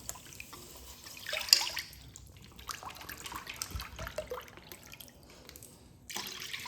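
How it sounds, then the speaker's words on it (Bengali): Two bowls of water poured into a wok set on a gas flame for boiling raw mangoes, a soft splashing trickle with a few drips running steadily and close, with a brighter splash near the start and again at the end. "এখানে আমি পুরোপুরিভাবে 2 বাটি জল দিয়ে দিলাম।"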